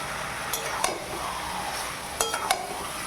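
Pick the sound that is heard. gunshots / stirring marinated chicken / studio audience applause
stirring marinated chicken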